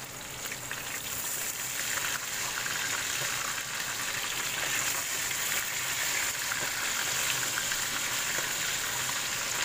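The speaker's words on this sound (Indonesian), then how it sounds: "Aku mau goreng ikan dulu teman-teman" Salt-coated fish frying in a pan of oil over a low flame, a steady dense sizzle and crackle running unbroken and fairly close throughout, with no talking.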